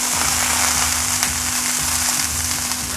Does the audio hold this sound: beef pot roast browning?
yes